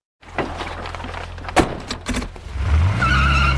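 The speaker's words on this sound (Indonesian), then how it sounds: "lalu mobil merah yang mundur dan berhenti" A red car reverses and stops, the engine rising and tyres scuffing with a short squeal near the middle, then idling low and close toward the end.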